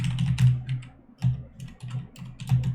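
Keys clatter on a computer keyboard as a short print statement is typed, bursts of close, crisp clicks arriving in quick uneven runs with brief pauses between them.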